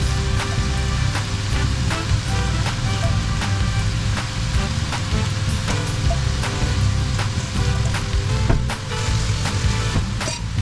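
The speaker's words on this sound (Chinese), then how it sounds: "翻炒一下。 加入泡过水的新竹米粉" Soaked Hsinchu rice noodles stir-fry in a hot pan with a loud, steady sizzle and crackle, broken by frequent clicks and scrapes of a utensil, close and continuous with no talk.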